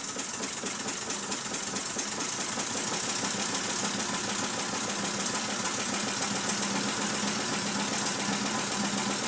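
A Mamod SP7 model steam engine runs as the gas is turned up, making a fast, steady chuffing and clattering mechanical beat at moderate volume, with no talking.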